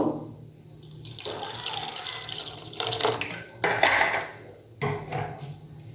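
Water pours and splashes into a bowl of mustard paste for hilsa, a bright trickling that comes in several bursts, with soft handling knocks in between.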